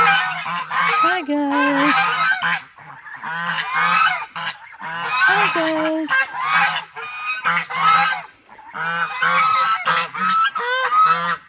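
Several geese honk loudly and repeatedly at close range, harsh overlapping calls, while a person briefly greets them.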